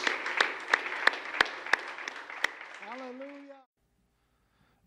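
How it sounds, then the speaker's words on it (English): Church congregation clapping in rhythm at the close of a worship service, a dense run of steady beats with a few sharp accents, while a voice sings or calls over it before everything falls silent. "Give the Lord a big hand clap today"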